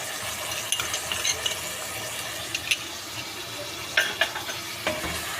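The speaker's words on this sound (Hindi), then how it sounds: "अब सबको मसाले को मिक्स करेंगे" Spices being stirred in a cooking pan along with chilli sauce and soy sauce, giving a steady low sizzle with scattered scraping clicks and a few sharper taps of the utensil, no talking.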